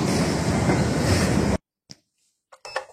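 A metro train rushes loudly through La Timone station in a close, rumbling roar that stops abruptly halfway through. A few faint clanks and shuffles from the platform follow.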